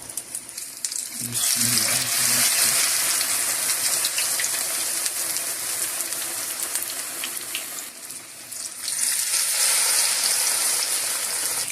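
Battered fish pieces for fish and chips fry in hot oil with a loud, steady bubbling sizzle that swells after a brief splash at the start and continues unbroken throughout.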